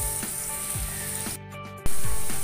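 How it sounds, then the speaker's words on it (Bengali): Potato pieces fry in hot oil with a steady, close sizzle and a few soft knocks from stirring, a brief quieter dip, then a louder burst of frying. "তো আমি এবার আলুটা লাল লাল করে ভেজে নেব।"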